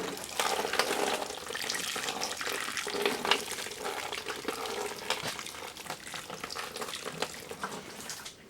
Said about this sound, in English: Just add a little bit of water to get them started.